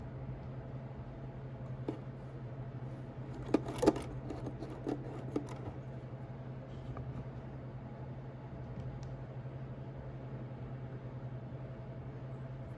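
A Bernina 335 sewing machine stitches a buttonhole, its motor humming steadily and close throughout, with a short cluster of clicks and taps near the middle.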